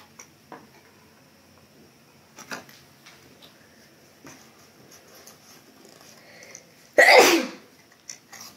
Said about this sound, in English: coughing made me sneeze because it's perfumey stuff